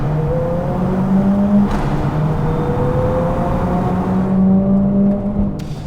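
A four-cylinder turbo car engine hums steadily at high revs, its tone rising gradually, with a brief sharp burst from a gear shift at around 4000 rpm near the start and another toward the end.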